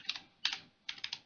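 Keys tapped on a computer keyboard while entering a Linux command on an Ubuntu server, heard as three short bursts of quick, close clicks separated by brief pauses, with no talking.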